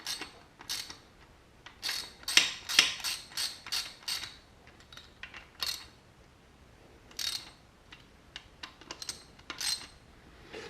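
Metallic clicks and ratcheting as piston bolts are snugged down during an automotive engine assembly, a busy run of sharp taps and wrench ratchet strokes, close and fairly loud, with a few quieter clicks afterwards.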